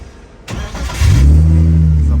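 A drift battle car's engine cranks briefly, catches and fires up, then settles into a loud, steady, rumbling idle close by.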